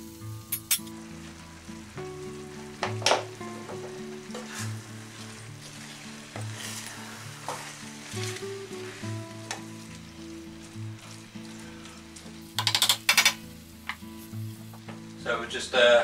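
Carrots, snap peas, beans and a little lettuce stir-fry for pancit canton, a steady close sizzle with intermittent scraping and clinks of a utensil in the pan, faint talk now and then.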